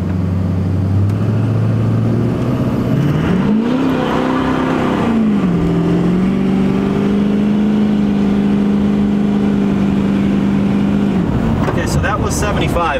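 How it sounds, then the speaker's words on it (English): A Duramax diesel pickup truck on an empty rural road revs its engine, then launches hard, the loud diesel drone rising steadily in pitch as it accelerates before cutting off into a final burst of noise near the end. "we're just gonna do a little rev here and launch it."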